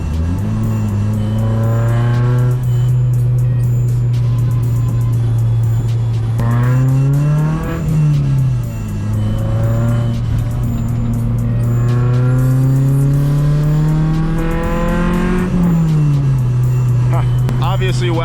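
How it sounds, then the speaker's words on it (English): An H22-swapped Honda Accord wagon with a dual overhead cam VTEC engine pulls loudly through the gears, the engine note rising steadily and dipping at each shift, with continuous tire and road noise underneath. "it is really fun to have a VTEC Accord dual overhead cam wagon, which all around makes it a pretty fun, zippy little all-motor car to whip around"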